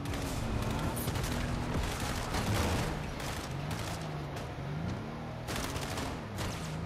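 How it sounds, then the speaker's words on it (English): Rapid bursts of video game gunfire crackle continuously, loud and dense, with repeated volleys over a steady background of game noise. "someone's shooting at me?"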